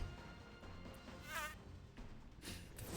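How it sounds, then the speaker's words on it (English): A mosquito buzz from the video game Digimon Survive whines in short, wavering bursts over quiet game background sound. "The mosquito noise gets me every time."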